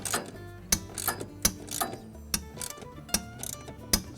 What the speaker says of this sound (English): Once we have it started, we can now use our ratchet to tighten it.